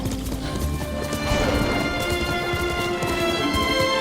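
Horse hooves galloping in the video game Ghost of Tsushima, a steady rapid clip-clop of a ridden horse set against a continuous game soundscape with a sustained musical drone.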